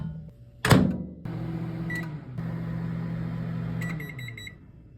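A microwave oven with a sharp door slam, then a low steady hum of the running oven and a short run of beeps near the end.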